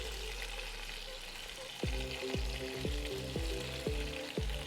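Sliced onions go into a hot pan with seared beef and sizzle loudly and steadily up close, broken by a series of regular knocks as the pan is stirred.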